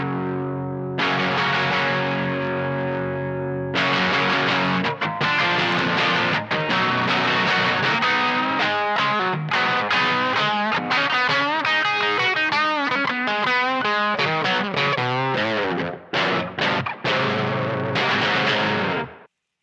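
An electric guitar through a Sound Boutique Imperial Drive overdrive pedal plays sustained chords and quick riffs, gritty and distorted, ringing loud and close with brief pauses between phrases.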